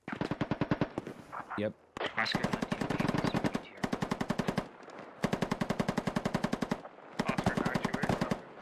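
Machine gun fire in a tactical military shooter video game, loud rapid bursts of automatic shots in several long strings separated by short pauses, with a brief spoken word between them.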